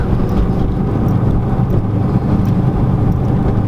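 A 2007 turbocharged Mustang GT running a straight-piped, turbo-back exhaust drones loud and steady from inside the car, with a constant low rumble and some wind noise at slow driving speed.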